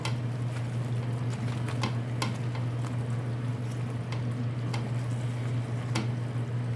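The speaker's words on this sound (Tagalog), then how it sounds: "Basta ang importante po yung parang napipirito siya sa kanyang sariling mantika, sariling sabaw." Chicken adobo fries in its own oil and juices in a pan, a steady sizzle under intermittent clinks and scrapes from a utensil stirring.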